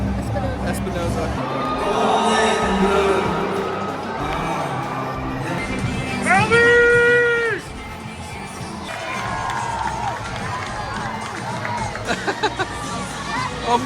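A large baseball stadium crowd cheers and roars loudly, with whoops and shouting swelling into a sustained wave, bright horn-like tones midway, and nearby voices talking over the din.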